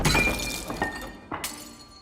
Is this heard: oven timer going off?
no